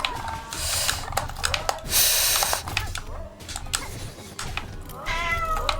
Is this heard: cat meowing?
yes